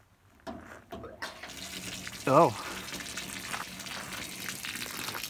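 Water runs steadily from a trail spigot into a horse trough at a picnic area on the Pacific Crest Trail, a soft continuous splashing stream under a man's brief spoken exclamation and outdoor ambience.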